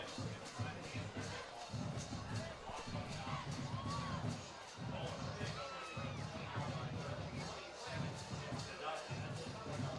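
A high school football homecoming crowd at Winton Woods cheering steadily in the stands, a dense, distant roar with shouts and whoops rising through it, carrying on without a break.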